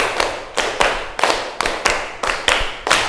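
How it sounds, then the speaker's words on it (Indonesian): A class of students clapping together in a rhythmic patterned sequence in a classroom, loud, close, unison claps falling in short grouped bursts with no talk over them. "Tepuk 1, tepuk 2, tepuk 5 2 kali."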